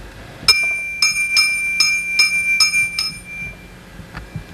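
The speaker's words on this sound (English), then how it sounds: "miniature church bell." A homemade miniature church bell, made from a 4-to-2-inch pipe reducer with a cap, rings out in about six clear, bright metallic strikes at a steady pace. The close tones hang and fade after the last strike.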